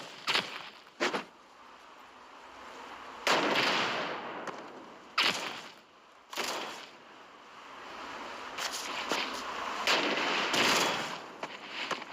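Rifle fire rings out in the Forces of Freedom video game, several sharp loud shots and short bursts spaced irregularly, each followed by a rushing echo and ambient rumble.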